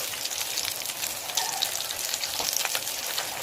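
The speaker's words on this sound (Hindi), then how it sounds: "जब ये अच्छी तरह फ्राई हो जाए, फिर आपने साइड चेंज करनी है।" Potato cutlets (aloo tikki) fry in oil on a griddle, giving a dense, steady sizzle with crackling pops close by and no talking.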